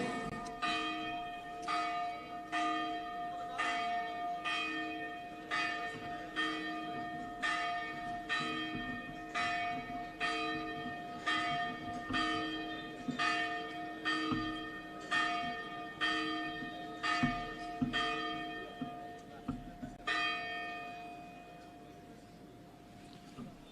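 A church bell tolls repeatedly at a steady, slow pace, ringing clear and resonant with lingering overtones, then stops near the end leaving a fading hum.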